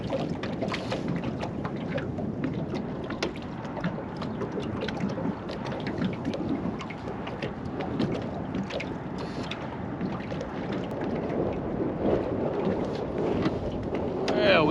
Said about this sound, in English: I'm fighting the wind bad out here.